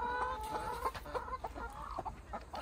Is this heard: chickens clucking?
yes